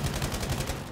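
Rapid automatic gunfire in Battlefield 5 rattles through a short burst, loud and close, with evenly spaced shots and no talk over it.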